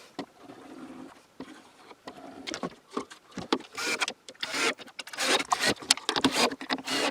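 Wooden lid being screwed onto a glued French cleat holder in a workshop, with irregular close rubbing, creaking and scraping bursts of wood and driver noise, growing busier and louder toward the end; no talking.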